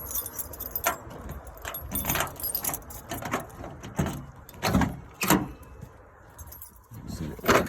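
A set of car keys jangles again and again in short metallic bursts near an '87 Buick Regal under LS-swap work. The shakes come at an uneven rhythm, with no speech.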